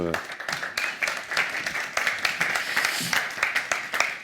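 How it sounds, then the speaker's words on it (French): Conference audience clapping at an eco-mobility event, a continuous patter of applause running throughout while a voice speaks over it. "Là aussi, sous vos applaudissements, le temps qu'il arrive."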